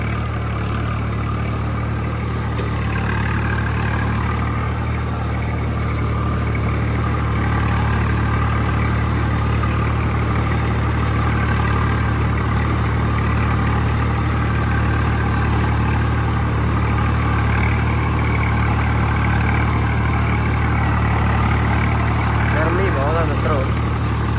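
A tractor engine idles with a steady low rumble throughout, close by, with people talking over it.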